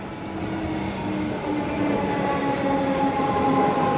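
A heavy freight train rumbles steadily past nearby at Footscray station, a continuous low roar with faint metallic whine over it.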